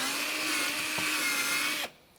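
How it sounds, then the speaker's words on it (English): A power drill bores a hole through a beef bone, a loud steady high whine with a grinding edge that runs for nearly two seconds and then cuts off abruptly. "I'm going to drill a hole in the bone so we can hang it in the drum"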